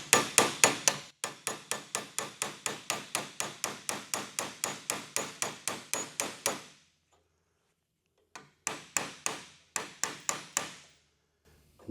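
Steady hammer blows drive a chisel against a second-generation Chevrolet Camaro door hinge, a fast run of sharp metallic strikes for several seconds, then a pause and two shorter bursts of impacts, loud and close.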